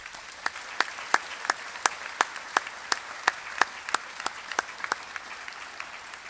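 During a Canfield High School National Honor Society ceremony, sharp, evenly spaced claps ring out near and clear over a soft bed of scattered applause from the audience.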